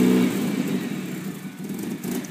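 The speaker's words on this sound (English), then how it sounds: "we're going to go ahead and start it up right now" Kia Spectra engine with a rough idle running just after startup, a steady low rumble close by with slight unevenness and no voices.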